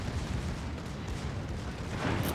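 Secondary guns on the Grosser Kurfurst battleship fire in World of Warships, a dense, continuous rumble of booming gunfire that stays loud and steady throughout.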